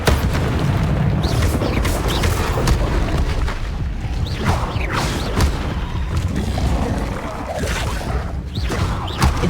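Fire spell blasts from Hogwarts Legacy gameplay: loud, continuous roaring bursts and booming whooshes over dense game sound, with repeated swelling flares across the stretch and a faint voice in the mix.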